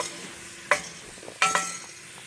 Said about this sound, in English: So we got that whatever sausage in there, and the onions. Get them cooked up here.